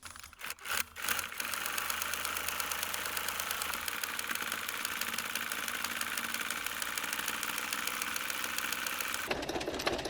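A sewing machine stitches a cushion cover, starting with a few uneven bursts, then running at a fast, even mechanical chatter close up for several seconds before the tone shifts near the end; no talking.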